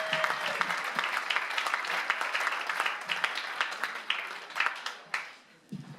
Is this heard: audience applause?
yes